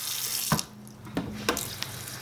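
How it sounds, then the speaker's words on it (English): Hot soapy water sloshes as it is poured out of a container of beauty blenders being cleaned. The close running water comes with a few clinks and splashes and no talking. "I pour all the water out."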